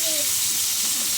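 Fish frying in a pan at a home kitchen, a steady dense sizzle and hiss filling the whole moment, close and fairly loud, with a voice faintly underneath.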